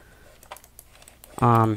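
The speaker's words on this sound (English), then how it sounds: "Can we type in Jordan Claycott?" Keys clatter in a quick, light run on an Iogear trackball keyboard set up for a media center, with soft scattered taps before a loud voiced burst near the end.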